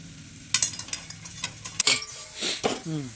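A spoon stirs soaked sago (sabudana) in a pan, giving a few scraping and clinking strokes against the metal with light sizzling, close up, and a voice is faintly heard at the end.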